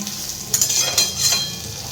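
Hilsa fish fry in oil in a new wok, giving a steady close sizzle with faint stirring clinks and no voices.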